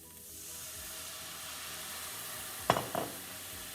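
White wine splashes into a hot pan and sets off a steady, close sizzling hiss, with two sharp bursts of crackle near the end as the liquid hits the metal.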